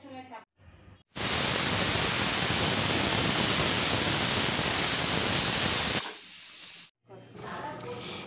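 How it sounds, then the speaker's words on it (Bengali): A kitchen pressure cooker releases a loud, steady hiss of escaping steam for several seconds, cutting off abruptly. Brief sounds come before and after it. "এরপর এই যে প্রেসার কুকারে প্রায় 3 থেকে 4টে আমি সিটি দিয়েছি"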